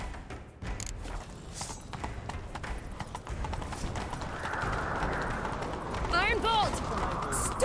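A horse gallops in The Witcher 3: Wild Hunt, hooves clip-clopping in a steady, driving rhythm over a low rumbling background, with a brief whistling sweep near the end.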